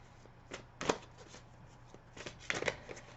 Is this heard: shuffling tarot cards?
yes